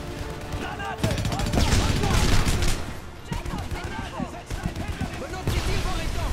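Rapid bursts of video game gunfire from the shooter Homefront crackle through a chaotic battle, layered with overlapping shouted voices and game effects.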